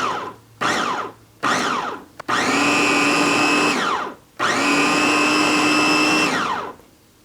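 A food processor chops ingredients for dolmeh in several pulses: three short whirring bursts, then two longer runs that spin up and wind down, loud and close with brief pauses between.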